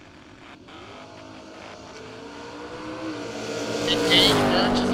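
Drag race cars, an Oldsmobile Achieva and a Fox body, roar as engines build at the strip, the sound rising steadily to a loud launch near the end, with an announcer's voice underneath.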